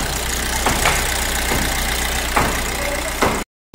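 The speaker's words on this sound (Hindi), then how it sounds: "अभी तक हमारी गाड़ी चालू है, देखिए 4 मिनट होने आया।" A Maruti Suzuki Ertiga engine, recently repaired for starting problems, idles steadily at close range with a low continuous hum and a few faint clicks, then cuts off abruptly near the end.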